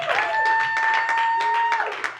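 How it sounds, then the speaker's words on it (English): A live audience at a sports talk comedy show at Caveat bursts into dense, close applause and cheering, with a sustained whistle-like tone running through the clapping. "Let's cheer him on."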